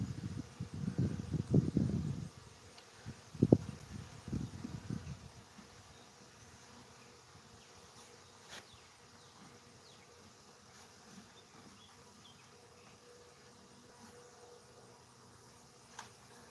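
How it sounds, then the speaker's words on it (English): Honeybees swarm around their hive in a loud, low buzz for the first few seconds, then the sound quickly fades. Only a faint, sparse hum and quiet background remain as the colony calms. "Now you can see the bees are really calming down and they're going right back into their home"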